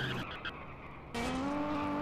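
An Infernus car in GTA SAMP skids and spins out, producing a sustained tire screech that shifts pitch midway over steady engine noise.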